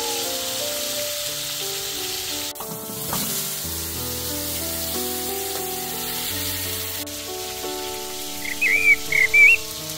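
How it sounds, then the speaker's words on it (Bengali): Chicken, potatoes and eggs fry in a thin kadai with a steady, soft sizzle and crackle throughout, and faint whistle-like chirps rise briefly near the end. "অন্য চুলায় পাতলা কড়াইতে হালকা ভেজে নেওয়া হলো মুরগির মাংস,"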